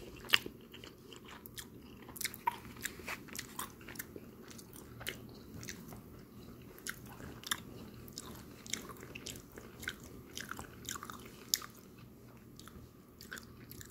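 Close, quiet chewing of a KFC spicy mac and cheese bowl with Nashville Hot sauce, with soft crunches and mouth clicks repeating irregularly and no talking.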